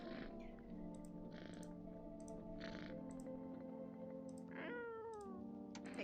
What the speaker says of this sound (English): Pick up the cat. Meow.